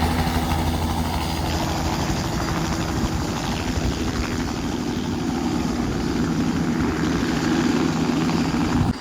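A nearby helicopter holds a loud, steady engine and rotor drone throughout, with a constant low thrum and no talking.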